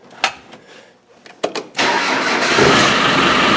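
A Land Rover 300Tdi diesel engine cranks with a few short clicks and bursts, then catches and settles into a loud, steady idle close by.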